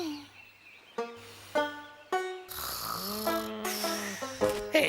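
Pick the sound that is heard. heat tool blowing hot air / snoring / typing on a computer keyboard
snoring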